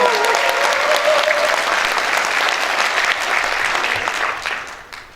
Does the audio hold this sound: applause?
yes